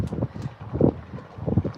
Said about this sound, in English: Oh my God, that wind is busting through here.